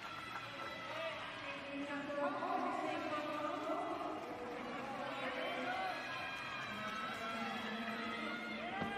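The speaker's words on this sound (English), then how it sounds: "You can hear some cheering in the background" An arena crowd cheers and murmurs during a men's high bar routine at the Tokyo 2020 Olympic qualification. The cheering sounds faint and diffuse, with some voices standing out from the general noise.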